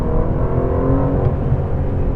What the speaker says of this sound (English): It makes a great noise when you wind it up.